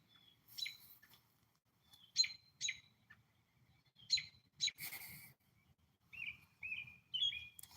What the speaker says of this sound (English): And now the birds are like, oh, the sun's coming back out.